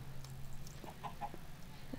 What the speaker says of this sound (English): Where's that stupid chicken anyway?